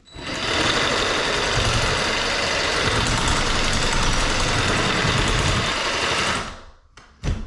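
A cordless power tool cuts through electrical service cable for a 200-amp home installation: a loud, steady, buzzing motor drone up close, running several seconds before winding down, then a short final burst.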